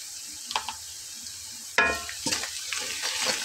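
Onions frying in a pan as salt is sprinkled in and they are stirred, with scraping stir strokes and a rising sizzle after a quiet start, close and moderately loud.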